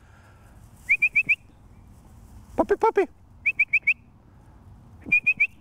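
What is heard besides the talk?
person whistling to train a quail dog puppy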